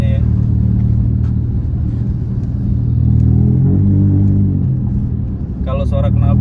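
Honda Jazz GK5 with a modified exhaust, driven in sport mode, giving a steady low rumble with a swell of engine revs midway and a voice cutting in briefly near the end.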